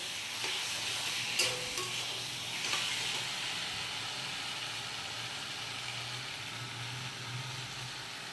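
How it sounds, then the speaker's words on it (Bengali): Soybean chunks and potato sautéing in a pan, giving a steady soft sizzle with occasional scraping stirs, close and quiet. "এই যে সয়াবিন আলুটা কষানো হয়ে গেছে"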